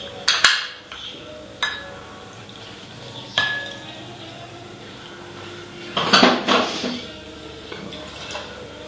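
Lemon juice is poured into a cocktail at a bar, and bar tools make sharp metallic clinks and clanks at scattered intervals, ending in a cluster of rattling knocks near the end.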